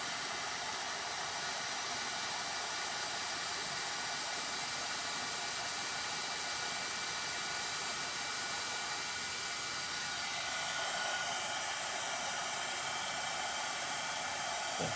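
A hair dryer blows steadily on scrapbook-paper Christmas tree crafts, a loud continuous whooshing roar that holds for the whole stretch with a slight shift in tone partway through, no talking over it.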